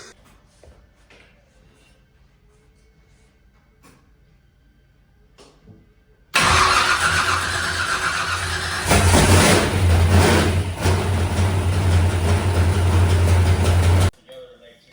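A Nova's car engine starts abruptly after a quiet stretch and runs loudly with a steady low rumble and some valve train noise, briefly swelling louder midway, then cuts off.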